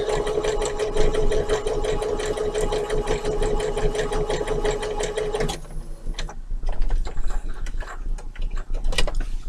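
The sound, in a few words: sewing machine stitching denim for a tote bag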